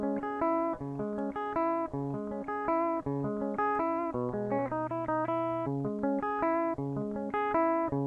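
A dry, unprocessed direct-input electric guitar signal plays clean, plucked single notes and chords at a steady moderate level, meant for later reamping through an AC30 amp with heavy reverb.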